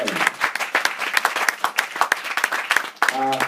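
A church congregation applauding, with steady dense clapping throughout, fairly close and loud, and a voice speaking briefly near the end.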